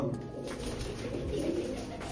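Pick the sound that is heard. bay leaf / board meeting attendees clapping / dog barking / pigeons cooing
pigeons cooing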